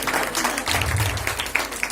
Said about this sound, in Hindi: एक बार जोरदार तालियां अन्नू भैया जी।